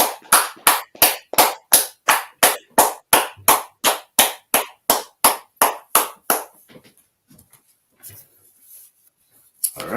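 A class ends with a group clapping together in a steady, fast rhythm of about sixteen sharp, even claps that stop abruptly, followed by near silence and a faint rustle.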